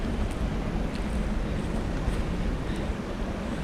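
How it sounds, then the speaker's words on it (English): A river on the Canon City, Colorado river walk rushes over rocks in a continuous loud broadband roar, mixed with some wind buffeting on the microphone, with no talking. "go down here so you can hear the river maybe a little bit better"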